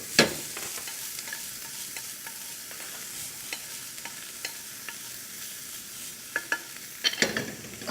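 Onion and noodles frying in oil, a steady close sizzle punctuated by regular sharp taps and scrapes of a utensil against the pan, louder clatter near the end.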